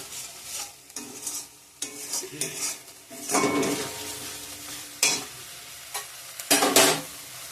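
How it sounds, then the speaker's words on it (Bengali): Fried cauliflower and potatoes tipped into hot oil and stirred, giving bursts of sizzling alongside clanking and scraping of a spoon against the pan, with short pauses between strokes. "ফুলকপি আলুগুলো দিয়ে দিলাম"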